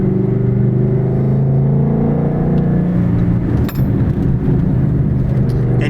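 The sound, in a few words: Shelby GT350 Mustang engine accelerating while driving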